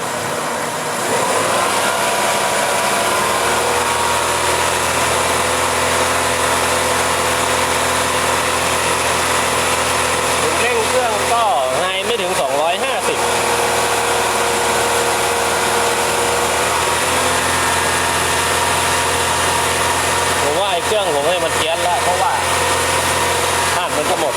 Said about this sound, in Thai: เดี๋ยวผมจะลองเร่งเครื่องดูนะครับ